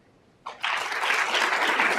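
Audience at a training session on healthcare infection prevention reporting bursts into applause after a near-silent start, the clapping swelling quickly and holding steady to the end.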